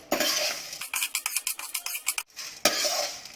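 A spoon scrapes and stirs edible gum (gond) frying in hot ghee in a pan on a low flame, sizzling in bursts and rattling against the metal with a quick uneven rhythm, close and fairly loud.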